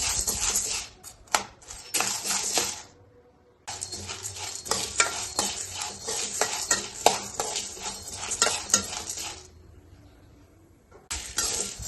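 Whole spices are dry-roasted in a pan over medium heat for sambar powder, with repeated scraping and rattling stirs in bursts separated by short quiet gaps, close and crisp.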